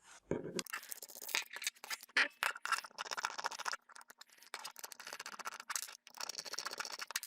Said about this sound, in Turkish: Şimdi bu disk kasasından ayırmak için şu vidaları sökeceğiz.